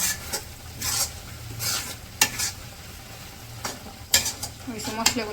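Spices being stirred and fried in a pan for a beef curry, with steady sizzling under repeated scraping strokes of a spoon, close and fairly loud.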